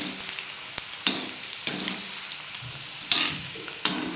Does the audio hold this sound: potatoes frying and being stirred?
yes